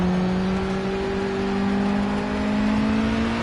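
Ginetta race car engine in the racing game Project CARS, a loud steady droning engine tone rising slightly in pitch as it accelerates, continuous and up front.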